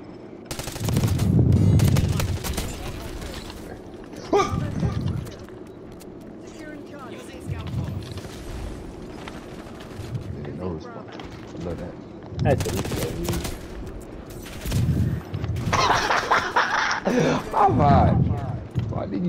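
Gunfire in a shooter video game comes as a few separate loud bursts and single shots spaced through the stretch, with people talking between and over them.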